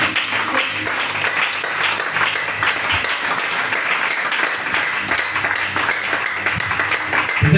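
A church congregation applauds in praise during a French-language Bible teaching, a dense, continuous roar of many hands clapping at full volume throughout, with no lull.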